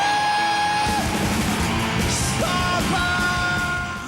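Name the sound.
The opening scream on a song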